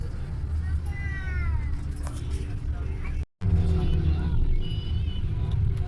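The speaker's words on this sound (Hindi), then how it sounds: "मैं बस के अंदर बैठा हूँ और गाड़ी चल पड़ी है" A bus travels along with a low, continuous rumble heard from inside the cabin. Voices and other indistinct sounds rise above it, and the noise cuts out for a moment midway.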